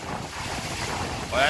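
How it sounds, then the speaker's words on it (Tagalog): Strong typhoon wind roars and buffets the microphone in a loud, continuous rush, rising briefly at the end, in Daet. "Lakas lang talaga hangin oh."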